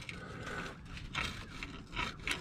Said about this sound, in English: let me see if I can pry this off with the screwdriver